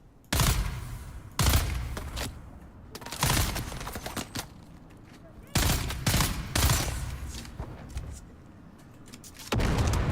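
Bursts of automatic gunfire crack out in the Dune Awakening video game, several loud, close volleys of a few seconds each separated by short pauses, with faint game ambience between them.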